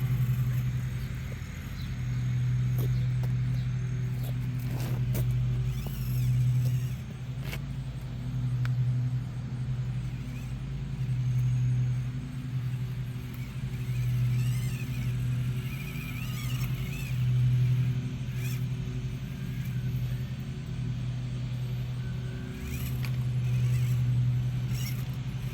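A custom Axial SCX24 "Blu" RC crawler with OGRC oil-filled shocks runs an outdoor course, its small motor giving a steady whining hum with faint mechanical rattles and scuffs throughout, no voices.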